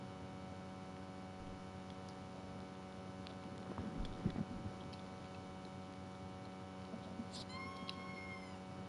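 A pet cat lets out a short, faint meow near the end, rising over a steady electrical hum and quiet room noise, with a brief muffled rustle a few seconds earlier.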